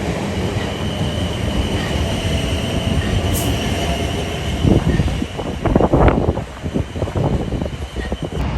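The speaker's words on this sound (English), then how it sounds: "a train approaching platform 4" A train pulls out at a South Western Railway station, a loud steady rumble of rolling wagons that builds into clattering wheels and squeals near the end, with no speech.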